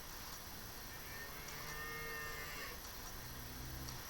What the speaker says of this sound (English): you're going to hear a lot of cows in the background